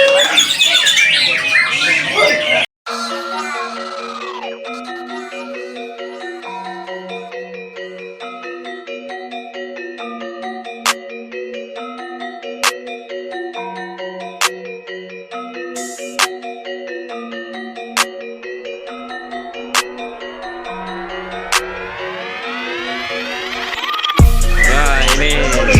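A white-rumped shama (murai batu) sings a long run of clear, varied whistled phrases with sharp repeated notes. Brief loud noise bursts come at the start and end.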